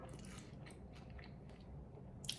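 Soft wet chewing and biting of tinned sardines close to the mic, a steady series of small mouth sounds with no talking.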